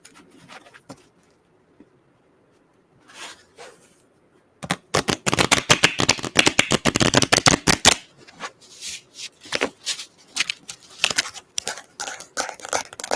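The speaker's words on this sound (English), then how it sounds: "card shuffling." A deck of playing cards riffled and bridged over and over in a rapid crackling burst, close and crisp, followed by softer intermittent shuffles and card handling.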